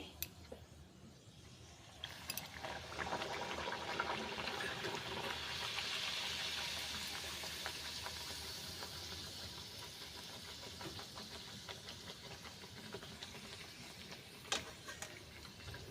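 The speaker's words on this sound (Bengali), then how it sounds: "এইভাবে আমি ভেজে নিচ্ছি দেখুন" Radhaballavi dough frying in hot oil, a soft continuous bubbling sizzle with faint crackles, quiet and steady throughout, with a couple of small clicks from utensils.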